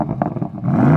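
A tuned limited-edition BMW with a roughly 770 hp engine revs through its exhaust, a brief rising growl that swells loud and close.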